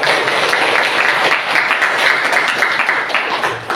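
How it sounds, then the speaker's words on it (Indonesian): Students in a classroom break into loud, close applause, a dense continuous patter of many hands clapping at once with no talk over it. "Tepuk tangan dulu."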